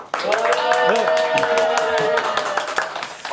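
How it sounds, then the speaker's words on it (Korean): Audience at a Progressive Party activist education lecture clapping to welcome party leader Hong Se-hwa: dense, close clapping running under a voice for about three seconds. "우리 박수로 홍세화 대표님 모셔보도록 하겠습니다."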